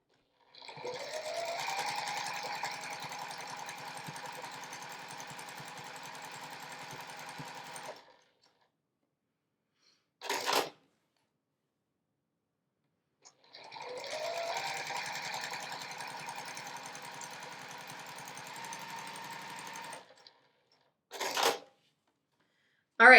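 A sewing machine stitches quilt fabric in two long, steady runs of about seven seconds each, rapid and mechanical, separated by silence and brief clattering clicks between the runs.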